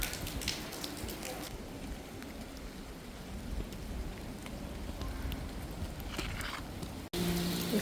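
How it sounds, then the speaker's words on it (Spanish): Rain falls outdoors in Tallinn, Estonia, a steady close hiss of drops on surfaces that continues throughout, with a voice speaking over it. "No quiero salir, está lloviendo."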